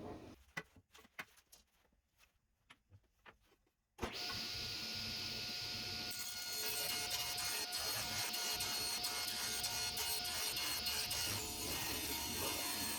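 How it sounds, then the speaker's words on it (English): Saw cutting the groove off a maple board for a cutting board, quiet workshop taps, then a loud steady motor whine and cutting roar that intensifies partway through and holds continuously. "now I'm just gonna cut off the groove."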